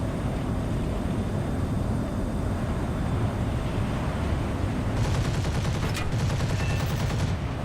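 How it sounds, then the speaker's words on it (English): Rapid anti-aircraft turret fire in the War Thunder game, heard as a dense burst of automatic shots over a steady engine drone from about five seconds on. "There's that over-accurate fucking turret fire."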